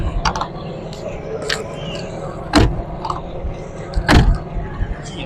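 A modified Suzuki FX car door is worked nearby: soft clicks and latch sounds build to two sharp, solid thuds a couple of seconds apart, over a low background hum.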